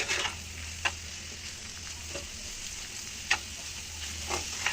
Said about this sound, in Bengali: চিচিঙ্গাটা ভাজা ভাজা হয়ে আসলে দিয়ে দিব একটা ডিম ভেঙে।